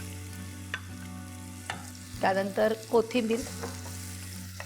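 Finely chopped onion stirred into a hot tempering with ginger, garlic and green chilli paste for Maharashtrian pithla, with steady sizzling and a few close scraping stirs, a brief spoken word near the start.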